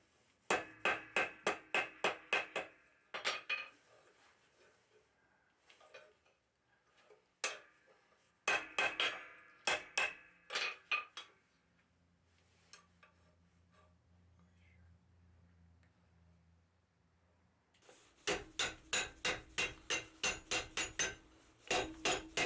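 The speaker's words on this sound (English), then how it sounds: "I'm going to start the ring detail by forging a sharp bend right at the offset" Blacksmith's hammer forging a sharp bend at an offset in hot metal on an anvil, loud rapid ringing blow series at the start, middle and end, with quieter scraping and handling between.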